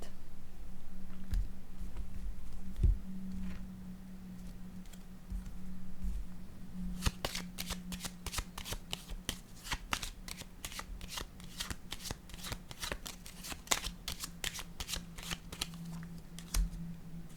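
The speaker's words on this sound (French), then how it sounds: "Je vais déposer une autre carte." Tarot cards shuffled and laid down on a table, starting with a few soft slaps and placements, then a dense run of crisp riffle-like flicks and clicks, close and fairly loud with no talking.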